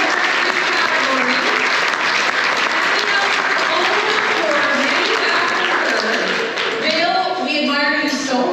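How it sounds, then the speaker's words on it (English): A gala audience at a volleyball hall of fame and awards event gives a loud, sustained round of applause for an honoree, with voices and cheers mixed into the continuous clapping. "huge round of applause for Dale Savage"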